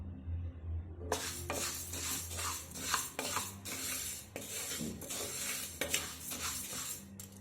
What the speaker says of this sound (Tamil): எண்ணெய் ஊற்றாமல் வறுத்து எடுத்துக்கலாம்